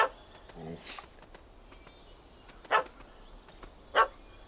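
A dog barks in The Witcher 3, with a few sharp, distant barks spaced apart over low ambient game noise and faint bird chirps.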